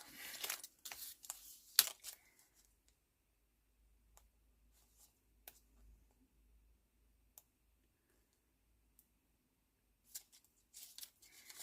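Scissors cutting a strip off the top of paper for an autumn-themed handmade journal, a few close crisp snips early, then quiet with sparse faint clicks and small handling sounds, another cluster of snips at the end.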